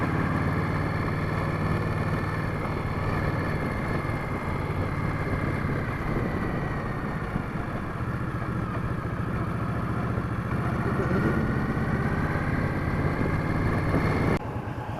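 A motorcycle idles at a red light on a hot day, its engine giving a steady, close, continuous mid-pitched rumble that holds even throughout with no talking.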